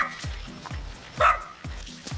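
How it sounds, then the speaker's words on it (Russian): A dog barks repeatedly in a village yard, a steady run of about ten sharp barks at moderate distance, with a brief louder yelp midway. "в каждом дворе сидит собака. И она начинает лаять."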